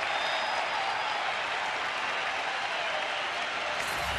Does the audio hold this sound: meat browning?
no